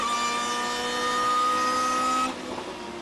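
Lotus race cars at Spa-Francorchamps on a damp track hold a loud, steady high-revving engine note for over two seconds, then the sound drops away sharply into quieter track noise.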